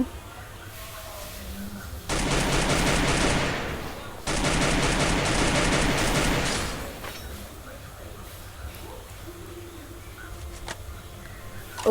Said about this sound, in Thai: อุ้ยมีคนยิงฉัน